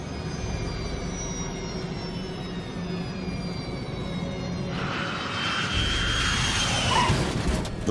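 Jet airliner engines drone steadily on final approach with thrust being reduced, a continuous whine and rumble that shifts and swells in the last few seconds, with no voices.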